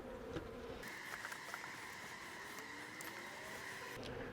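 Honey bees swarm and buzz during a cutout from a barrel, a dense, steady hum of many wings holding close and even throughout with no talking.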